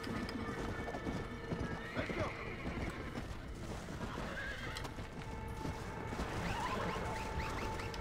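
Fire horse from the video game Red Dead Redemption Undead Nightmare, hooves clip-clopping steadily while repeated whinnies and neighs rise over them, fairly close, with a voice talking underneath.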